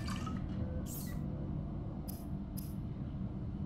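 Crafting water in Subnautica makes a few brief, soft splashing and bubbly clicks over a quiet hum, spaced about a second apart.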